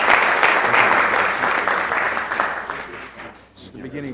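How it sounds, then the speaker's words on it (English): An audience at a city council and housing authority meeting applauds in a sustained round of clapping that gradually fades, with voices talking over the tail end. "more round of applause"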